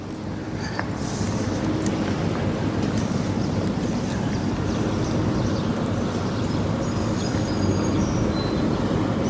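A train at Chambly train station in Georgia, a steady loud rumble of rolling railcars with intermittent high metallic wheel squeals, close and continuous.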